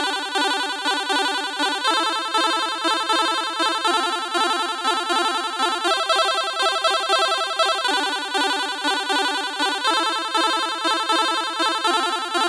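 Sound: chiptune-style fast arpeggio crescendo on Yamaha MODX synthesizer

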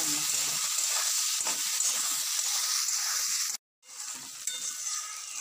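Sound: onion, tomato and green chili sizzling in a pan

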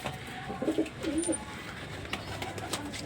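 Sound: pigeons cooing

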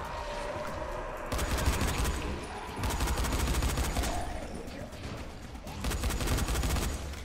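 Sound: firecrackers exploding in video game

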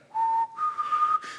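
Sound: whistled imitation of the hymn Amazing Grace

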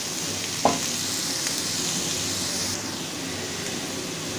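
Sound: cauliflower singara filling cooking in a pan

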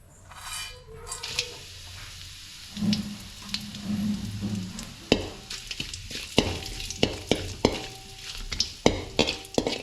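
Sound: whole spices frying in oil

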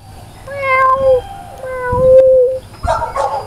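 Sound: cat meowing

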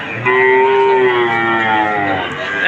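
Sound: cow at a cattle market

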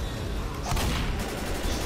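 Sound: gunfire from a gun in the video game Left 4 Dead

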